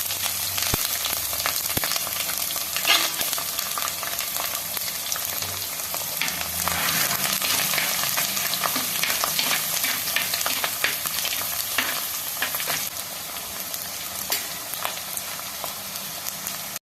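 Garlic and ginger fry in hot oil right after mustard seeds have popped, for a lemon pickle: a steady, close, bright sizzle with stirring scrapes running throughout, with no talking.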